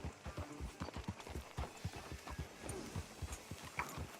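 Horse hooves clip-clop at a walking pace in Red Dead Redemption 2, a quiet, steady rhythm of soft hoofbeats with no voices over them.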